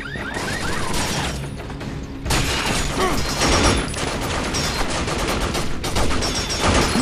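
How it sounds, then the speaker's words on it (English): Machine gun fire in the video game Binary Domain, dense rapid bursts of automatic gunfire with crashes and mechanical clatter, loud and sustained, with a short lull before the firing resumes. "watch out for that machine gun fire"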